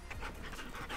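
A dog pants quickly and steadily after a walk, close and fairly loud, with no talk.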